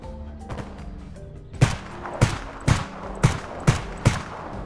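Gunfire in the video game S.T.A.L.K.E.R. Anomaly: six loud, sharp shots spaced about half a second apart, each with a brief echoing tail, following a quieter stretch of background game noise.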